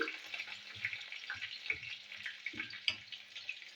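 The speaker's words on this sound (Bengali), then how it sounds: "পেঁয়াজটা একটু ভেজে নিচ্ছি আমি" Chopped onion fries in oil with green chili and nigella seeds, a soft steady sizzle broken by light stirring scrapes and clicks, faint and close with no speech.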